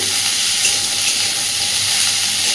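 Pointed gourd (potol) frying in a pan of oil, a loud dense continuous sizzle heard up close with no pauses and no voices.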